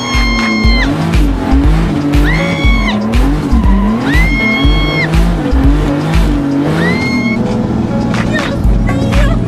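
Drift race car sliding sideways with loud, repeated tire squeals over a roaring engine, close and continuous, with rising and falling pitch across several slides.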